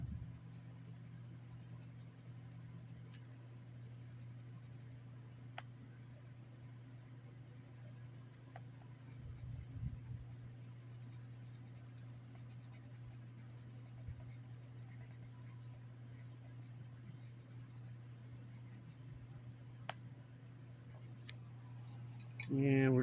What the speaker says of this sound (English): Definitely gonna need to sharpen this colored pencil.